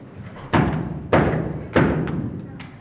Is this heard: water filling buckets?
no